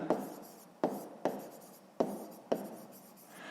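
A pen writes on notebook paper during a sixth-grade maths exercise, five quick strokes, each starting sharply and trailing off in a soft scratch, close and quiet with no talk.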